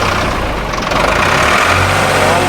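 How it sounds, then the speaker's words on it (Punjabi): A Ford tractor engine starts, runs steadily and revs up, a continuous rough rumble with rising intensity, close and loud, no talking. "ਸਟਾਰਟ ਕਰਕੇ ਤੁਹਾਨੂੰ ਦਿਖਾਉਨੇ ਆਵਾਜ਼ ਵਗੈਰਾ ਟਰੈਕਟਰ ਦੀ"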